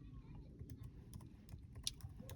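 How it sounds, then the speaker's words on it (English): A computer keyboard is typed on in irregular soft clicks, faint and close, with a person talking quietly between the keystrokes. "I'm just typing in."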